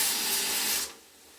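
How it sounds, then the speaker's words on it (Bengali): A pressure cooker cooking egg and dried-pea ghugni lets out a loud, close steam hiss from its whistle that cuts off abruptly after about a second, leaving faint background noise. "আমাদের প্রেশার কুকারে সিটি মারা হয়ে গেছে"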